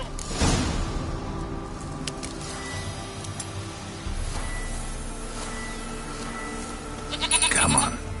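A goat in The Witcher 3 bleats a few times against a quiet outdoor ambience, with a louder, wavering bleat near the start and another close call at the end.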